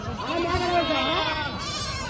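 Goats bleat repeatedly at a busy livestock market in Telangana, with nearby voices and crowd chatter running underneath the wavering calls.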